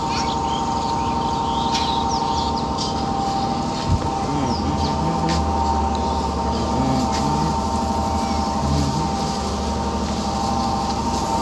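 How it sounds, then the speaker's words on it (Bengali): Birds perched on a date palm tree give scattered, faint chirps from a distance, set against a steady low drone from a running generator. "প্রত্যেকদিন ওই খেজুর গাছটাতে শুধু পাখিগুলো বসছে প্রত্যেকদিন"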